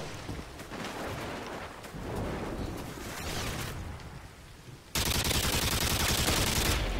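A silenced 1014 shotgun fires in the video game Modern Warfare 2 during an Underpass free-for-all match, a rapid series of muffled shots over game noise, then a louder dense rattle of fire at the end, no talk.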